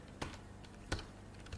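A computer keyboard tapped in a quiet room: two distinct keystrokes a little more than half a second apart, then a third faint tap, all soft and close.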